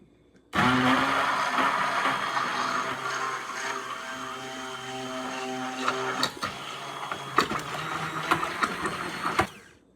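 Blender whirring at high speed as it emulsifies an egg mixture into homemade mayonnaise: a loud, steady motor whine that starts abruptly, runs for about nine seconds with slight pitch shifts and rattles, then cuts off.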